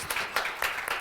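Audience applause for a guest speaker being introduced at a cultural talk, a short burst of scattered clapping at moderate distance with no voices over it.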